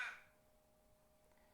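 A crow gives a single short caw right at the start. It is faint and seems some distance away, followed by quiet background.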